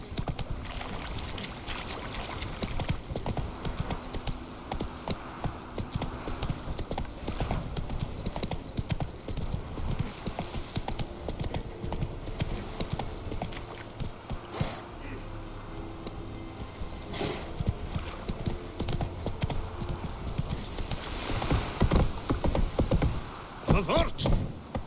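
Roach, the horse in The Witcher 3, trots and gallops with steady, loud clip-clop hoofbeats that run throughout, over a wash of ambient game sound and occasional faint voices.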